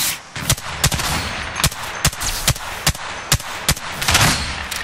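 Gunfire in the battle royale game Apex Legends: sharp, evenly spaced single shots crack about twice a second over a constant noisy game background.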